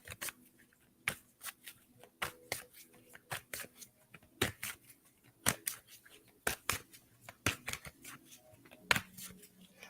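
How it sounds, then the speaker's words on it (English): Tarot cards being shuffled slowly by hand, a series of soft, irregular papery flicks and slaps close to the microphone in a quiet room, with no talking. "I used to not want to do cards on screen because I shuffle slow"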